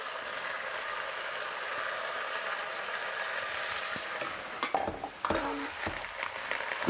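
Wild garlic tossed into a hot frying pan for a spring stir-fry, a continuous soft sizzle with clattering pan and utensil knocks toward the end.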